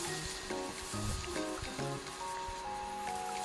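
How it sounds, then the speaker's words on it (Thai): Rice and tuna dry-fry in a wok, giving a continuous crackling sizzle with scraping and clinking of stirring throughout. "เราจะทำการ คั่วข้าวแล้วก็ทูน่าเนี่ยเพื่อเป็นการไล่ความชื้นออกไปนะครับ"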